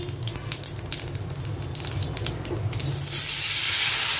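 Chopped tomatoes hitting hot oil with cumin and asafoetida in a pan for potato curry, a steady close sizzling hiss that swells louder and brighter toward the end, no talking.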